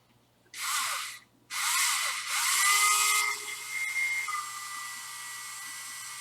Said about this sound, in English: Probably with the dullest drill bit that I have